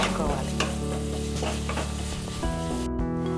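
Turmeric frying in a pan for beetroot rice, a steady close sizzle with stirring scrapes and a constant hum running underneath throughout.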